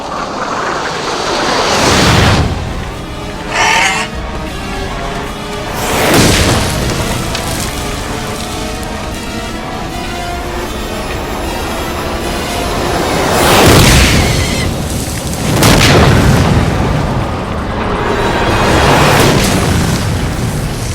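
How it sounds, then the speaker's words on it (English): Cinder cone volcano erupting in pulses that hurl boulder-sized lava fragments and lava bombs, heavy roaring rumble throughout with several loud deep booming blasts spaced a few seconds apart, close and powerful. "A new pulse from the cinder cone launches a bombardment of boulder-sized lava fragments and a barrage of lava bombs."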